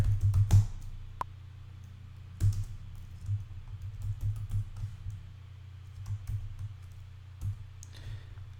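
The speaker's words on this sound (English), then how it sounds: "So we're going to type in the word final here." Typing on a computer keyboard, a steady run of close, crisp key clicks with a few sharper strokes, alone with no talk.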